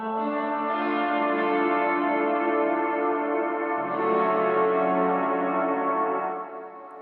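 A Line 6 James Tyler Variax guitar sounds sustained chords through an 80s rack-mount style effect with a low mix, giving a lush, shimmering wash of tone that shifts to a new chord midway and fades at the end.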